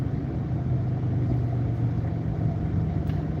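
A car slowing in weekend rush hour traffic, heard from inside as a steady low engine and road rumble, constant and moderately loud with no talk.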